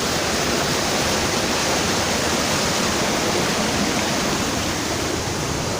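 Loud, steady rushing water beside a stone mill at Safranbolu in the Black Sea region, a dense unbroken roar filling the whole scene with no pauses and no voice audible over it.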